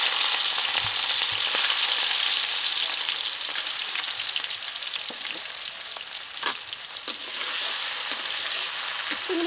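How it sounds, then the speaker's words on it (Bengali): Prawns frying in mustard oil in a wok give a steady, loud, close sizzle with crackling spatter throughout, with no voices. "এই তেলে চিংড়ি মাছগুলো ভেজে তুলে নেব"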